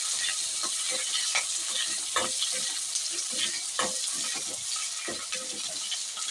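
Shallots and green chillies for sundakkai pachadi sizzling in hot oil, a continuous crackling fry with intermittent stirring clatter, close and fairly loud.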